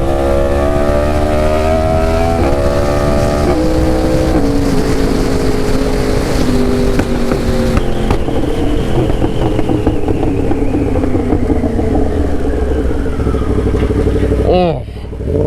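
A BMW M1000R motorcycle ridden off road roars loudly and steadily throughout, its engine pitch stepping up through gear changes before the sound briefly dips near the end.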